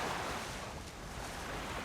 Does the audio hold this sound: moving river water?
yes